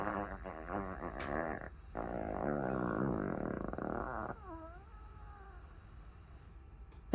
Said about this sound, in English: Okay, here's Big Fart.